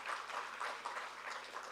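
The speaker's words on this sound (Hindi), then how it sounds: "एक बार ताली बजाकर पुनः मन दीजिए" Audience applause at a Hindi comedy poetry gathering, a steady wash of many hands clapping throughout, moderately loud with no voices on top.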